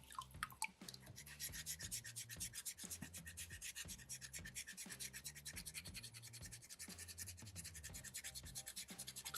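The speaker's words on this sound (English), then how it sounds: "I'm going to literally use the point of the rasp and just kind of dig that out" Metal rasp point scraping and digging into a soapstone skull carving, giving repeated short rough strokes, close and steady throughout, with no talking.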